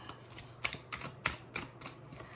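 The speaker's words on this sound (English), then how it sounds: "there's nothing like shuffling a good deck" A small pocket oracle card deck is shuffled in a quiet room, producing a quick series of light, crisp card snaps and flutters in irregular bursts.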